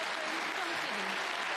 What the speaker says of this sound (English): Big round of applause for him here in Edinburgh as well.